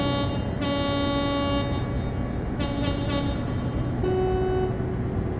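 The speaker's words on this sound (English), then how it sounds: "city horn gets a honk" Truck city horn from Euro Truck Simulator 2 honking in short repeated blasts over a constant engine drone, with no voices.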